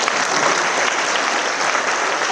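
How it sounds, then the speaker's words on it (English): Dense, even applause from an audience at a yoga university event, continuous and fairly loud throughout, with no talk over it. "Round of applause, please."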